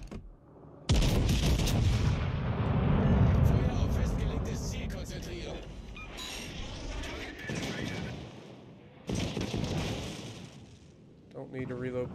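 Battleship guns fire in the naval combat game World of Warships Legends, with a heavy booming salvo that rumbles on and then a second blast later, while someone talks over the action.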